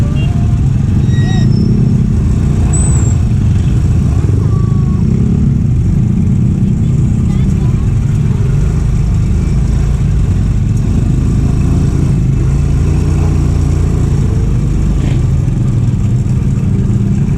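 Busy street traffic with motorcycles and tricycles passing gives a continuous loud engine rumble, with mid-pitched motors droning and revving close by and no clear gaps.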